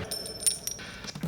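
Coins falling and clinking as a sound effect, a few light metallic chinks and taps scattered over a quiet background, short and faint.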